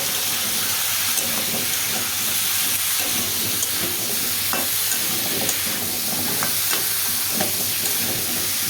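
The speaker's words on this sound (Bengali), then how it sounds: "দিলাম এখন এটাকে নাড়াচাড়া দেবো" Food being stirred in a hot pan, a loud continuous hissing sizzle with intermittent scraping and clinking of the utensil, close up and without speech.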